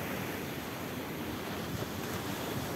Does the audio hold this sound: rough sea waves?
yes